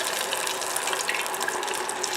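Wet french fries bubbling in hot frying oil, a dense, steady sizzle and crackle throughout with no breaks, fairly close and alone.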